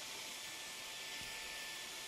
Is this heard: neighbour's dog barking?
no